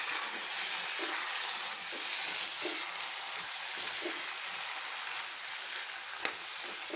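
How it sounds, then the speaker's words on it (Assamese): Mutton karahi curry with potatoes and spices is stirred in a hot pan, giving a steady, moderately quiet sizzle and frying hiss throughout with faint scraping strokes of the stirring utensil and no speech. "এতিয়া এইখিনি ভালদৰে লৰাই দিওঁ।"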